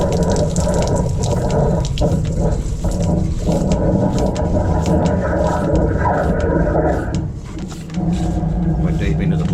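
Water gushes and rumbles through a blocked drain as it is cleared, a loud, continuous rushing roar with a brief dip near the end, and someone talks over it.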